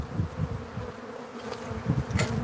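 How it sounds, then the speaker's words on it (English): Robber bees swarm around an active hive, their buzzing a close, continuous drone that rises and falls as individual insects pass near, with no one speaking. "the hive is still active, and there's robber bees coming from somewhere"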